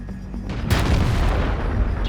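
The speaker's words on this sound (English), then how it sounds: "That's the 300 alpha damage cannon for you guys." A tank cannon fires in World of Tanks, a single deep, loud boom with a sharp crack that rolls into a long rumbling decay lasting over a second.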